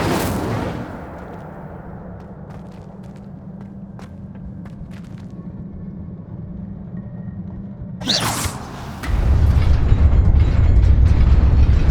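An Incendio fire spell cast in Hogwarts Legacy bursts out as a sudden roaring whoosh near the end, following a long stretch of low droning ambience with faint clicks, then settles into a loud, rumbling fiery rush.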